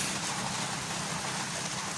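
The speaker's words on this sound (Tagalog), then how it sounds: "muulan na eh ayan oh" Steady rain falls outdoors on a farm, a dense, even hiss of drops on surfaces with no gaps, fairly loud and close.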